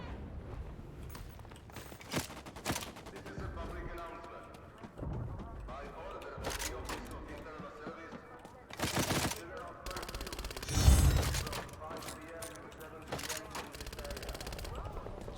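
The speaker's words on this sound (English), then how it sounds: "This is a burst rifle, so I need to be mindful of that." Bursts of rifle fire in Vampire: The Masquerade – Bloodhunt, short clustered volleys that crackle through the clip among other gunshots, mostly under a player's ongoing talk.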